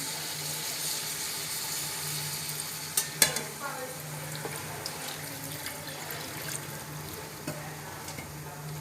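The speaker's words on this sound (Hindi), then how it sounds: "तो अब थोड़ा सा इसके अंदर पानी डालते हैं।" Water goes into a simmering potato, moongre and pea curry in a pan, producing a steady hiss and sizzle with a clatter partway through, then continued bubbling and stirring, and no voices.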